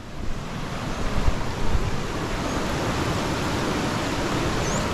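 A flooded river swollen by Hurricane Lidia roars in a constant, heavy broadband rush, close and loud, with no voices over it.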